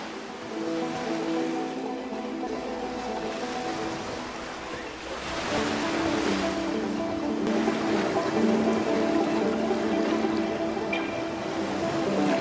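Ocean surf washing onto a beach, a steady broadband rush that swells louder partway through, with faint tonal music underneath.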